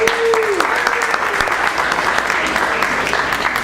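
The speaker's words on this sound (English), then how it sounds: "Let's give the first timers a round of applause." Crowd at a cannabis-industry tech event applauding first-time attendees, continuous loud clapping from many hands, with a few cheers and voices rising through it.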